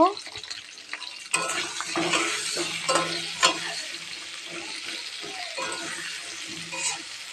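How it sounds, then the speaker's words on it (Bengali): Cauliflower and potato pieces frying in a pan, a close, steady sizzle with stirring scrapes and occasional clinks of the utensil, a brief softer start before the frying noise jumps louder. "এই যে ফুলকপি আর আলু আমি ভাজাটা ভাজা করে নেব"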